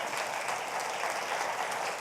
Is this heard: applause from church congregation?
yes